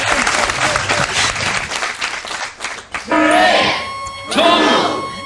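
Studio audience applause on a TV game show, loud and dense clapping for about three seconds that fades, then bursts of cheering and shouting voices swell up twice over it.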